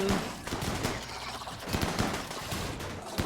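Combat shotguns blasting at bugs in the RimWorld video game, a dense run of sharp, overlapping gunshot bursts firing in rapid, irregular succession across a busy battle din.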